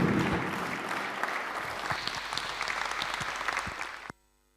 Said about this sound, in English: please give yourselves a very warm round of applause.